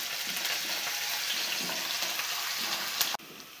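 Chopped shallots sizzle steadily in hot coconut oil, a continuous bright frying hiss that holds at even loudness before cutting off abruptly near the end.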